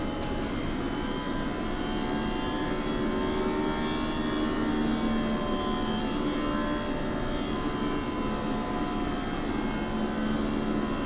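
Steady airliner engine drone on a landing approach to Gibraltar in a flight simulator, a constant, even roar with a faint whine layered on top, running unbroken and with no voices.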